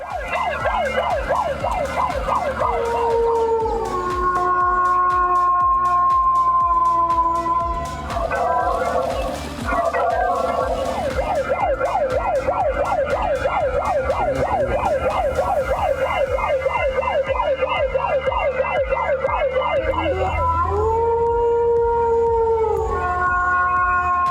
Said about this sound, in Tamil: ஸ்பீக்கர் ஒன்று வச்சு நாய் குறைக்கிற மாதிரி சைரன் சத்தம் இப்படிலாம் வச்சு வனவிலங்குகளை விரட்டுறாங்க